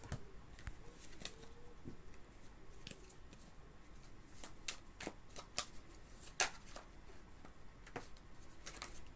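A full tarot deck is shuffled by hand, giving soft scattered riffles and papery flicks with a few sharper snaps, close up over a quiet background and with no talking.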